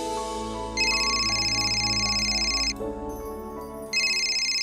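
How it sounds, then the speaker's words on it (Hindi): A phone ringtone plays loud and close, a bright repeating electronic melody with sustained tones that cycles through its phrase, alone without voices. "ये लो, तुम्हारा एक्टर बेटा का फोन है, लो।"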